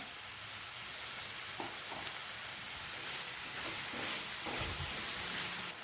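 Onions and tomatoes sauté in a pan with turmeric and salt for egg masala curry. A continuous, fairly quiet sizzle runs throughout, broken by occasional scraping stirs, with no voices.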